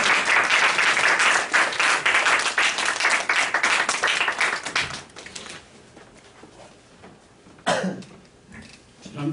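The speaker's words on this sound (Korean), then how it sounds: "박수로 교수님을 소개하겠습니다." Applause from a Korean church service audience: dense, steady clapping for several seconds that thins out and fades, with a brief burst of noise near the end.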